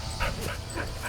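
A shelter dog gives faint, high whimpers and soft yips in a few short repeated bursts over steady background noise, with no talking.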